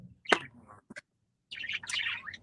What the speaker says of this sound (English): especially with the birds going crazy like that